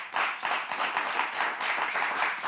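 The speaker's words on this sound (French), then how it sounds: "On va applaudir et acclamer" Clapping from an audience at a live stage event, a moderate patter of hands with slightly uneven, pulsing bursts that carries on without voices.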